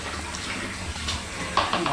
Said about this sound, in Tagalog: papundo muna ako ng tubig kasi papunta na siya parang yung tubig sa gripo.